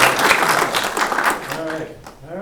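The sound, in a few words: audience applause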